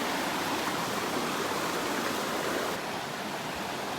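A waterfall on a small mountain stream roars steadily, a dense broadband rush close by, constant and unbroken with no voices.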